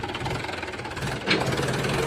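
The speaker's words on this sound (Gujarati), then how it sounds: "જો આ કારુભાઈનું ટ્રેક્ટર છે આપણા।" A tractor engine runs at a steady, low idle with a knocking rumble, faint and continuous, with a slight swell partway through.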